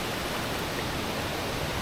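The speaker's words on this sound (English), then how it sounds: "I'm right at the top of the waterfall here, and the current is that strong." Water at the top of the Kuang Si waterfall in Laos rushes in a loud, dense, unbroken roar with a strong current, filling the whole clip at close range.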